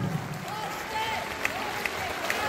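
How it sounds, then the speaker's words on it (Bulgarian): Audience applause at a charity Christmas concert after a dance ensemble's performance, a steady wash of clapping from a crowd with a voice talking over it and a few sharper claps standing out. "Силни аплодисменти!"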